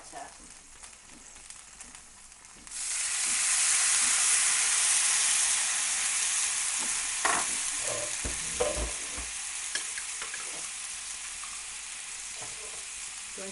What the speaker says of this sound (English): So I'm just going to add some boiling water.